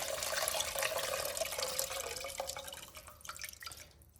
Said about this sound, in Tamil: இந்த புளி தண்ணியை இதில் ஊற்றுறேன்